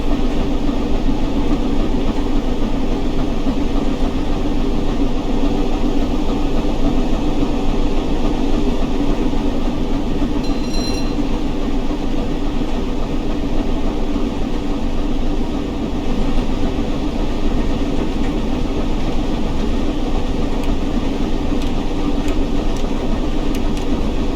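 Flying Scotsman steam locomotive and its train passing through a small tunnel or under a bridge, a loud continuous rumbling roar with rail noise throughout, no voices.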